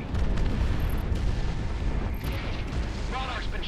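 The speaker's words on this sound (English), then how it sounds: "Monarch missile away" A missile launch and explosion in the jet combat game Project Wingman, heard as a loud, dense roar and rumble that fills the whole span with a heavy low end, with faint game voices mixed in.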